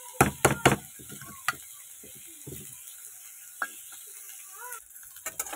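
Beans and carrots being stirred in a frying pan, sharp scraping spatula strokes in quick bursts over a quiet background sizzle, with pauses between strokes.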